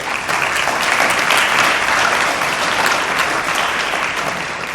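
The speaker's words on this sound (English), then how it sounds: "let's now give the a round of applause to all the sponsors." Audience applause for the sponsors at the 2017 Huntingburg Herbstfest pageant, a steady, dense burst of clapping from a crowd in a hall that holds its level throughout and cuts off at the end.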